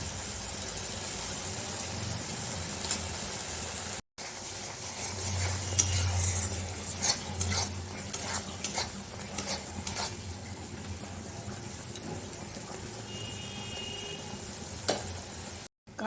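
Mustard paste sizzles steadily in hot oil in a pan for a vegetable dish, a soft continuous crackle with occasional stirring clinks, close and alone without speech.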